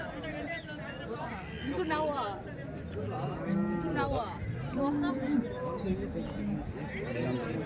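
Several cows moo in drawn-out calls amid a busy crowd of people chattering at a large cattle market in Chintamani, Karnataka, the lowing rising and falling repeatedly over the hubbub.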